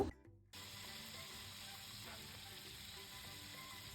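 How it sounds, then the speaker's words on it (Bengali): A steak frying in butter in a pan, turned to cook its second side, gives a steady close sizzle with faint crackles that starts abruptly and holds evenly to the end. "এখন আবার 3 মিনিট করে এই সাইডটাও ভেজে নিব।"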